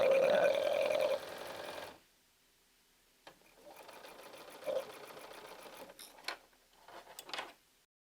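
A sewing machine stitches a quilt block with freehand motion: a steady whirring run of stitches that stops, a quiet pause, then a few shorter bursts of mechanical clicking and stitching, with faint speech nearby.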